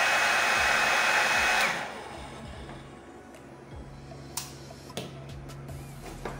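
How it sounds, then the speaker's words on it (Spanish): A repaired hair dryer that had a short in its wiring runs with a loud steady whoosh for under two seconds, then switches off, leaving quiet background with a few sharp clicks and taps. "esto es la reparación de este secador de cabellos"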